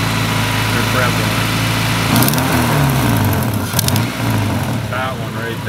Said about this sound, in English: The exhaust leaks are so bad.